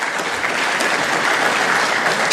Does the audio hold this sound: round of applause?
yes